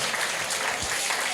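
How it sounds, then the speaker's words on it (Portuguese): A church audience applauds the performers of a Christmas musical, with a dense, steady burst of clapping filling the hall throughout. "Aplaudam os nossos artistas."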